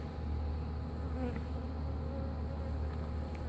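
Honeybees buzz around a hive in a fern bush at Lake Hollingsworth, Florida, making a continuous, fairly soft hum with no talking.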